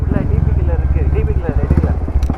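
A Meteor 350 motorcycle fitted with a Red Rooster aftermarket exhaust runs with a deep, throbbing, close engine note while someone talks over it.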